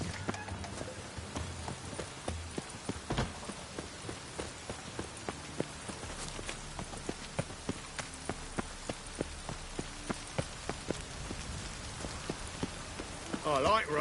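Rain falls steadily in The Witcher 3, a soft continuous patter on surfaces with scattered sharper drips and knocks, including horse-like clip-clops, at a low, even level throughout.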